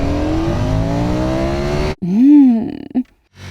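Ducati Panigale V4 Tricolore engine held at a steady high roar, then a sharp cut and a quick rising-and-falling rev with a throttle blip before falling silent, loud and close.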